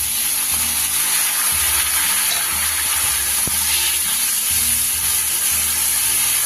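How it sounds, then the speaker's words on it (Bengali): Grated onion and garlic sautéing in a pan for a Bengali fish curry produce a loud, steady frying hiss with occasional dull scraping stirs underneath, close up. "পেঁয়াজ রসুনের কাঁচা গন্ধটা যতক্ষণ না যাচ্ছে ততক্ষণ কিন্তু খুব ভালো করে এটা কষতে হবে"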